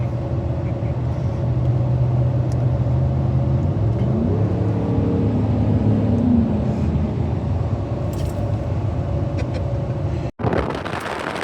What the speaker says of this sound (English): That's a Porsche, sir.